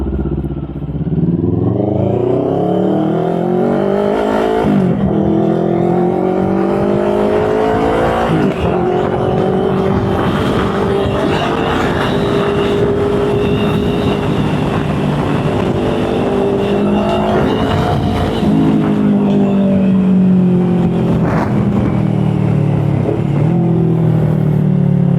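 A CFMOTO 700CLX motorcycle is ridden with an open visor, its engine loud and close, revving up through gears in rising sweeps with wind rush throughout, shifting and climbing again over the whole ride.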